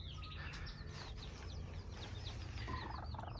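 Backyard Naked Neck chickens cluck and chirp continuously, many short calls overlapping at moderate distance over a low steady rumble.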